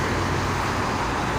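Steady, dense roar of toll road traffic on the Jakarta–Cikampek highway, dominated by freight trucks and buses with private cars mixed in, a continuous close wash of engine and tire noise with no voices.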